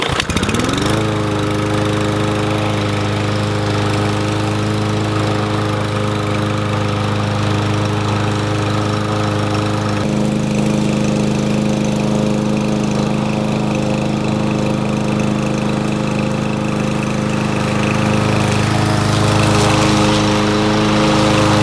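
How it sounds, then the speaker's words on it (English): A Troy-Bilt 110 21-inch walk-behind lawn mower is pull-started, then runs loud and close with a steady engine drone that shifts pitch partway through and keeps running to the end. "Well, let's start it up and see how it does."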